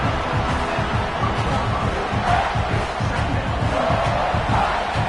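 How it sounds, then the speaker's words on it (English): A college football stadium crowd at a TCU vs South Carolina game roars at full volume, a dense, unbroken wall of cheering that holds steady throughout. "This crowd, full throat, spreading the eardrums and letting them know it's going to be a long day."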